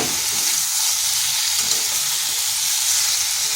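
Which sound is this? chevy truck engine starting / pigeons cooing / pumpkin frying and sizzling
pumpkin frying and sizzling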